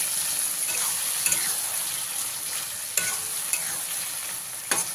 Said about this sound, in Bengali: এভাবে মিশিয়ে নিয়ে অল্প কিছুটা সময় ভেজে নিতে হবে।